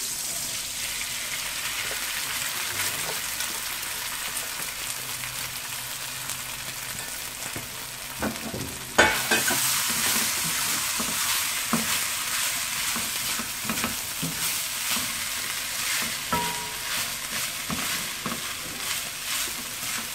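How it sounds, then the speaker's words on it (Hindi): Steady loud sizzling of rice stir-fried in a hot pan with garlic and green chillies in oil, with occasional clinks and scrapes as it is stirred and tossed; close by with no talking. "बस इसको आप 3-4 मिनट तक इस तरह फ्राई कर लीजिए"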